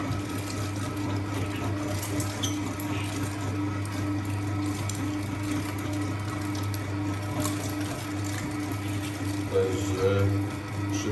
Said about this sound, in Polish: No nie muszę nic, wkładam ręką, nigdzie nie popycham. Samo wciąga, maszyna profesjonalna.